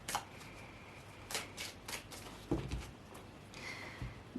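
A deck of tarot cards being cut and handled, soft papery riffles and slides in a few short bursts with a faint tap midway, close and quiet with no talk.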